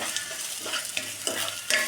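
Cut bean pieces fry lightly in a pan for chicken Manchurian while being stirred, with a steady close sizzle and repeated scraping strokes, no voices.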